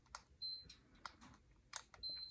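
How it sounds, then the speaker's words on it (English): Two short electronic beeps from a fireplace responding to its remote control, faint and a second or so apart, amid quiet clicks and handling noises. "Every time I press the remote system on this, we get a beep in the background"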